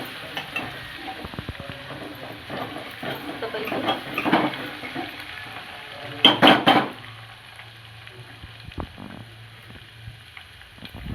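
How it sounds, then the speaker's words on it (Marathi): Spices crackle and sizzle in hot oil for a tempering, with scraping stirs and a brief louder burst of spattering midway. "अशी चरचरीत फोडणी बसली पाहिजे याला."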